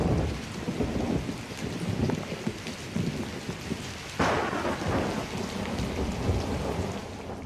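A thunderstorm pours heavy rain on surfaces, with thunder rumbling throughout and a sharp, louder crack partway through, all steady and close with no voices.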